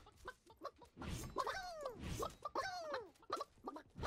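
Chicken clucking in the video game Realm Royale, a few sharp, close clucks and squawks with a louder burst in the middle, mixed with quick game hits and effects.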